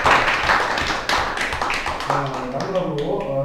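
Seminar attendees clap after a presentation, a brief burst of tapping applause at the start that thins out as a voice begins speaking over it.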